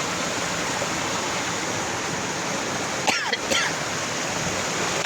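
Rushing water from a waterfall near a cave among large rocks, a steady broadband roar that stays constant throughout, with a brief faint voice or splash partway through.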